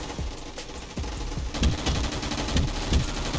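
Rapid gunfire in the Roblox video game, a burst of fast repeated shots growing denser and louder partway through, close and sharp.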